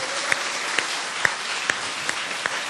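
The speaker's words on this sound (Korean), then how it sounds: "자, 박수 한번 주세요." Studio audience applause at a Korean live lecture show, a dense even wash of clapping from a crowd with occasional louder single claps popping out, sustained and close.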